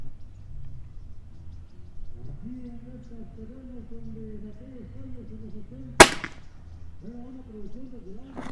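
A single sharp rifle shot cracks once midway, loud and sudden, while a voice talks quietly before and after it.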